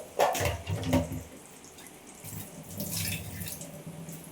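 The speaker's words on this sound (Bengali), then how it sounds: "একটু জল দিয়ে দিলাম মশলাগুলো।" Water splashes and trickles onto ground poppy seed, cashew and green chilli paste, a close, steady pouring sound that swells twice and then settles.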